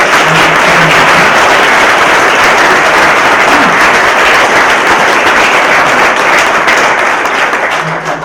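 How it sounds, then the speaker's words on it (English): Audience applause for engineers, architects and planners, a loud sustained wash of many hands clapping together that holds steady for several seconds before tapering slightly at the end. "Can I just ask a round of applause for all the engineers, architects, planners, finance, Dutchmen, everyone who's been involved in this."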